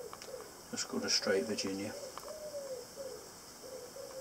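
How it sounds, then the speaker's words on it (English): Wood pigeons coo softly in the background, a few low rhythmic calls, while someone talks quietly over them. "Wood pigeons are quite noisy tonight."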